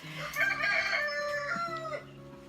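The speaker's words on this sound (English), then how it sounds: "There goes the rooster again." A rooster crows a long, drawn-out call at moderate distance, with a steady low hum in the background.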